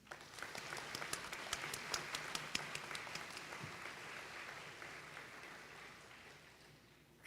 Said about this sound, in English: Let us give ourselves a warm round of applause.